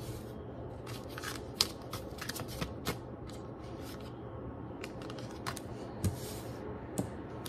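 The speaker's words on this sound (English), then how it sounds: "So let's pull out 5 cards here." Tarot cards being pulled out and handled, a series of soft papery flicks, slides and small taps close up in a quiet room, with no talking.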